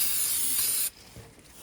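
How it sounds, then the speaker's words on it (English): A steady hiss of starting fluid sprayed from an aerosol can for just under a second, then it cuts off abruptly, leaving quiet mechanical background. "Then spray the starting fluid."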